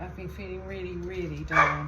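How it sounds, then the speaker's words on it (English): A dog barks once, a short sharp bark near the end, breaking in under a person speaking indoors. "Oh, that's the dog barking."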